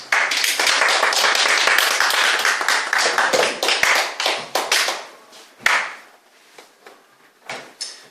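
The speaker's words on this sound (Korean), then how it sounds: "하나님께 영광의 박수 올려드립니다." Church congregation clapping at a worship service, offering applause of glory to God; loud, close, dense hand claps for about five seconds, then thinning into a few scattered claps.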